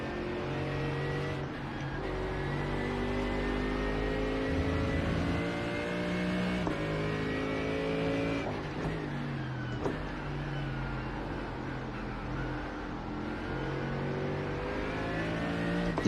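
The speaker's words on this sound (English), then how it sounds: "I actually like the whine of that little Beamer" A BMW race car engine in the iRacing video game, at the 24 Hours of Spa, whines as it revs up and down through gear changes, with rising pitch sweeps and steady mechanical drone.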